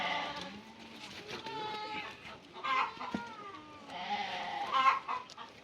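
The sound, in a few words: sheep bleating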